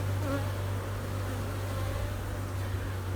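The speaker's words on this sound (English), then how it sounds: "shake the bees off of the frame you're trying to look at" Honeybees from a nuc colony buzz loudly and continuously as they are shaken off a hive frame during a late-summer inspection, a dense close-up drone with no pauses.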